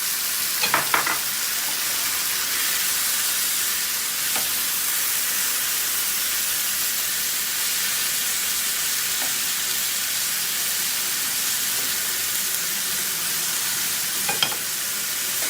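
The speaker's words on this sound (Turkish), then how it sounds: "Karıştıra karıştıra biberleri karamelize edeceğiz." Peppers frying and caramelizing in a pan while being stirred, with a steady loud sizzle throughout and a few brief scraping stirs, no talking.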